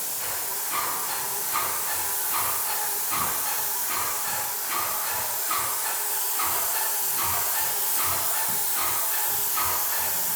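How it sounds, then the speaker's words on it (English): An airless paint sprayer spraying a front door gives off a continuous loud hiss with a faint rapid pulsing, steady for the whole stretch, with no talking. "Looks like it's spraying out pretty good."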